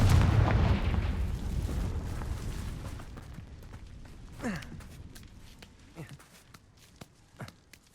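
A booming Confringo explosion spell blast in Hogwarts Legacy, loud and rumbling at the start and decaying over several seconds, followed by scattered smaller impacts and footsteps.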